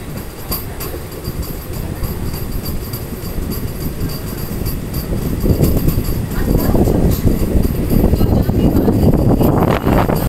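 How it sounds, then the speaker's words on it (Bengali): A MEMU passenger train runs on the Sainthia to Andal line after leaving a village station. It gives a loud, continuous rumble with rhythmic wheel clatter that builds in intensity, heard from on board, with voices faintly mixed in. "আমাদের ট্রেন কিন্তু কজরা গ্রাম ছেড়ে দিয়েছে"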